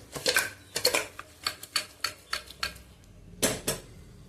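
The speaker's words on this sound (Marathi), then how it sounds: "माझं कुकर आहे ह्याला असं धरून हे टॉस करायचं" A pressure cooker held and tossed while cooking Solapur-style mutton rassa, giving a run of sharp metallic clatters and knocks in an irregular rhythm, close and clear with no talk.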